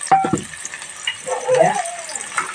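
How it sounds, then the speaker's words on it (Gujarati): Onions and tomatoes frying in a pan in a village kitchen: a soft sizzle with stirring scrapes, close by, brief and moderately loud, with some vocal sounds over it. "ડુંગળી સડે છે અત્યારે. ટમેટા નાખી દો,"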